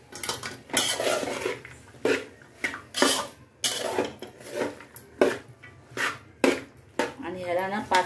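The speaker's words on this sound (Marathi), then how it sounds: "आणि हे सर्व भाज्या आपण परत एकदा परतून घेणार आहोत." Vegetables for biryani being stirred and sautéed in a metal pan, a rhythmic series of loud, close scraping and clanking strokes of a spoon against the pan, repeating about once a second with brief pauses between.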